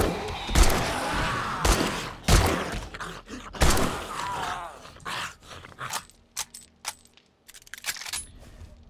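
Gunfire in the survival video game 7 Days to Die: several loud sharp shots with echoing tails early on, then scattered clicks and thuds, with quieter in-game noise between.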